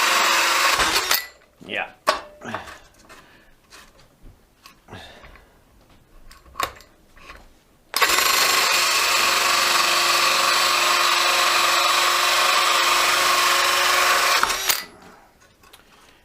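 Milwaukee M18BPD and Dewalt DCD776 cordless drills bore through wood: a run of short whirring bursts and knocks, then a loud sustained high-pitched grinding spin for several seconds before stopping, with a brief spoken word.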